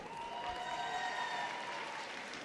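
A big indoor crowd at Crufts dog show applauds and cheers steadily for a Norfolk Terrier in the terrier group judging, a dense, sustained clapping roar with a faint tone running beneath it.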